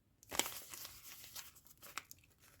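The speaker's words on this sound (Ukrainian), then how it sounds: "Я думаю, його можна розірвати" Plastic packaging is torn open in short crinkly rips, with a sharper pop of crackling at the end, close and fairly quiet.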